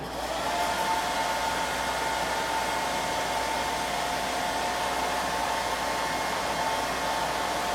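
A hair dryer blows steadily nearby, drying paint on an upcycled metal tray; an even, continuous whooshing hum with no talk.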